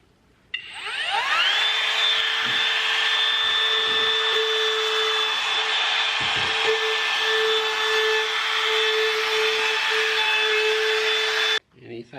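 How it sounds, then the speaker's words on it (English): A power tool with a steady high whine runs continuously for about eleven seconds on a wooden garden bench being restored, close and loud, spinning up at the start and cutting off at the end, with no talk over it. "and then keep sanding."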